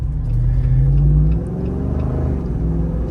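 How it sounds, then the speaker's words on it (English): A Jeep Wrangler Rubicon 392 V8 rumbles deep and loud through its exhaust, swelling in a sustained rev before settling back to a steady, throaty idle-like drone, close by with no other sounds. "that exhaust still sounds good"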